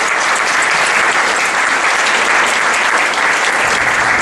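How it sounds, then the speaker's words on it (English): An audience at an evening awards event for Black History Month essay competition finalists gives sustained, dense applause, loud and steady throughout with no voices standing out. "maybe we can give them a bit of a round of applause"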